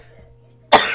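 A single sharp cough bursts out near the end after quiet room hum, loud and close, trailing off briefly.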